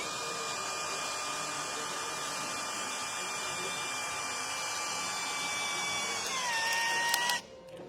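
A Retools power tool whirs steadily at a high, whining pitch on its second speed setting. Near the end the tone shifts, then the motor cuts off abruptly.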